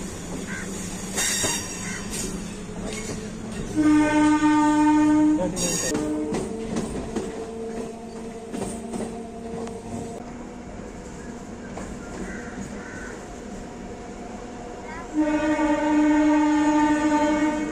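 A MEMU express train, the 17238 to Bitragunta, rumbles steadily along with clattering wheels, broken by a loud two-tone horn blast near the start and another near the end.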